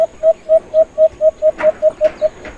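A dove's short, soft coos repeat in a steady, even rhythm, about a dozen in quick succession, clear and fairly close.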